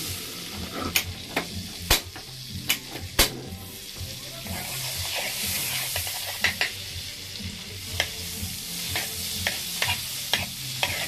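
Butter melting and sizzling in a frying pan with seafood, cooked with garlic and onion over a low flame and cream added: a steady close frying hiss with frequent sharp clicks and taps of stirring throughout, no talk.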